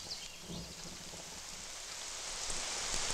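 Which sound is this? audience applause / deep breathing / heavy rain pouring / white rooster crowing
heavy rain pouring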